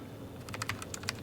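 Keys pressed on a Logitech G915 TKL gaming keyboard with tactile switches, a quick irregular run of crisp close clicks, quiet and alone.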